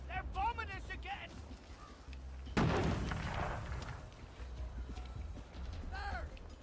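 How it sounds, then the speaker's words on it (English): Bombing in the video game We Happy Few: one heavy, muffled explosion-like burst hits midway and fades slowly, with hoof-like clatter and voices around it. "They're bombing us again!"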